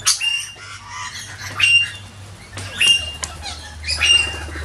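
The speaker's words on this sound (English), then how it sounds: "Corella looking for some seed." A corella squawks loudly while hunting for seed on a wet winter's day, four harsh, close bursts spaced about a second apart, with fluttering wings and a low hum underneath.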